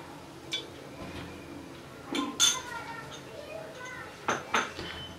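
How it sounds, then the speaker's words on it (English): A cooking pan handled on a kitchen stove as oil is added: a few light metallic clinks and taps, quiet and spaced out, with a voice talking over them. "Now we have to take a pan and we have to add 2 tablespoons of oil to it."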